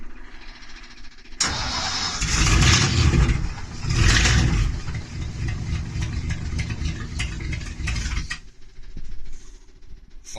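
A car engine cranks and fires up right away after a performance clutch replacement, then revs twice and settles into a steady idle for several seconds before cutting off, loud and close with no talk.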